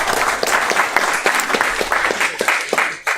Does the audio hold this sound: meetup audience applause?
yes